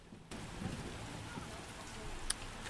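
Rain falls in The Witcher, a soft, steady patter of ambient game rain that starts suddenly after a brief quiet moment and continues evenly.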